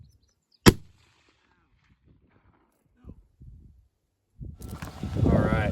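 A single sharp rifle shot cracks at a shooting range, in wind, from a 6.5x284 or .243. It is followed by quiet with faint movement, then a loud burst of wind buffeting and people talking.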